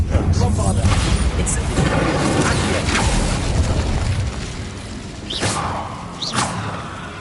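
The Bombarda blasting spell in the game Hogwarts Legacy unleashes heavy booming blasts and whooshes, loud and rumbling, followed by sharper bursts, with a character speaking amid the effects.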